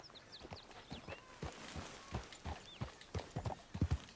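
Horse hooves in a video game, Red Dead Redemption 2, clip-clop in a steady walking rhythm, close and fairly quiet, with a few faint high chirps in the background.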